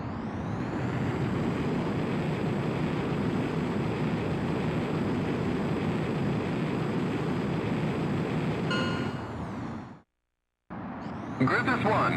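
A jet aircraft in the video game Ace Combat X roars steadily with a loud, broad engine rush that tapers, drops to brief silence, then resumes, with a radio-style voice talking over it.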